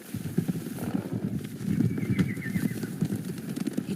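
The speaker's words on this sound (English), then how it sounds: "Horses, they're coming for us." Horses galloping in the video game Ghost of Tsushima, a rapid continuous drumming of hooves with a brief whinny partway through.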